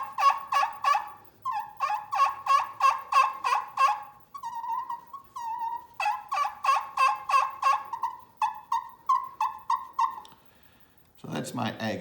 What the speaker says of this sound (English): I think they sound a bit nasally, like a turkey that's just scratching along and feeding in the leaves.